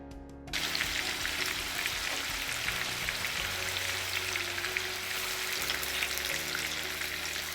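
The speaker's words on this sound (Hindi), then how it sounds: "अब पनीर को हम फ्राई कर लेते हैं।" Square-cut paneer cubes drop into hot oil and fry, setting off a loud, dense, continuous sizzle and crackle close by that holds steady for several seconds with no talking.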